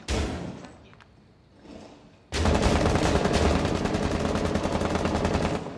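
Automatic gunfire in the video game Rainbow Six Siege, a loud, rapid burst of shots kicking in suddenly after a quieter stretch and rattling on steadily to the end.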